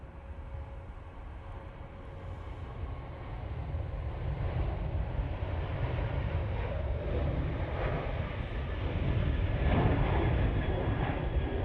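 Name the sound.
TUI airliner at Manchester Airport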